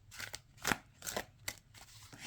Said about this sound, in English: Let's do an overhand. So it does shuffle really nice.